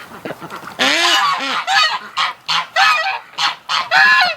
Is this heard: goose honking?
yes